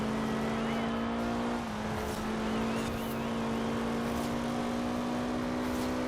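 Race cars in Forza Horizon 4 drive a track with a steady loud engine drone and a pitch shift as gears change, plus faint tire noise, with no talk.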